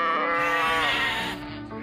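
Children's voices imitate a sheep's bleat in one long, wavering, nasal call during a Sunday school Christmas service in Bali.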